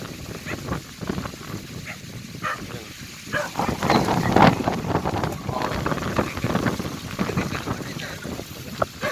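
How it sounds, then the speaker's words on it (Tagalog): Strong gusts roar and buffet the microphone in a steady, rumbling rush, with a dog barking and people's voices faintly in the background. "Lakas ng hangin."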